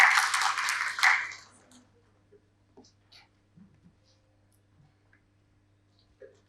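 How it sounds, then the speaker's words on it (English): A conference audience at an agricultural productivity event gives a short burst of applause lasting about a second and a half, followed by near silence broken by small ticks and shuffles. "Let's have a round of applause for him"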